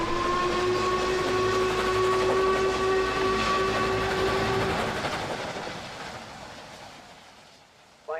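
The Flying Scotsman steam locomotive arrives at Bury station on the East Lancashire line, its steady whistle tone held over heavy rolling rumble that fades as the train draws in.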